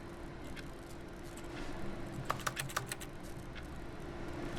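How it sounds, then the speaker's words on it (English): Quiet keyboard-like tapping used as the touch sound for objects in The Stanley Parable: Ultra Deluxe, a short cluster of several quick clicks over a soft background hiss. "I like how my touching sounds like I'm touching just a keyboard everywhere"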